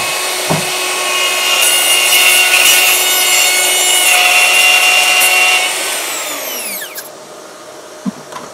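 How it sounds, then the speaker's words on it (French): A Festool OF 1400 router cuts into wood with a vacuum extractor running, giving a loud, steady high whine with a grinding edge for several seconds, then winding down as the motor stops, followed by a couple of light knocks. "ma défonceuse est branchée sur mon aspi"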